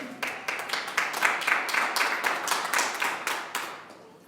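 A church congregation claps together in a lively burst of applause, sharp hand claps repeating rapidly and densely from start to finish before tapering slightly at the end.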